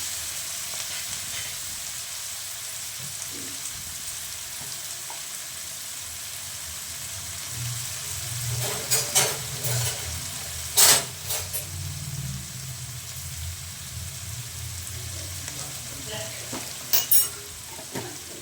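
Boiled cluster beans being stirred with salt in a hot pan, a soft continuous sizzle with scattered scraping clatters of the spoon that grow busier toward the end, close and without talk.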